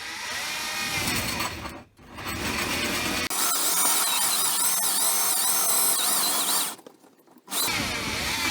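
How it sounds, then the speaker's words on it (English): A power drill bores a hole to mount a tap during a motorhome water system repair, a loud steady whine running for several seconds with two short pauses where the motor stops and restarts. "So I'll now drill the hole to mount the tap."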